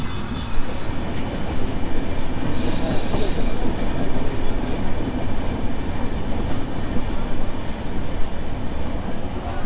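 Loud, steady rumble of the Ekota Express rolling slowly across the Jamuna Bridge in Bangladesh, with a brief high metallic squeal early on and constant low clatter throughout.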